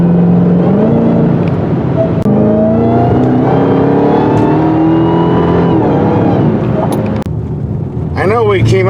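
A 2021 Dodge Charger Hellcat Redeye Widebody drives with a loud, close engine note that climbs and shifts in pitch through gear changes, a strong steady roar with a few higher squeals near the end.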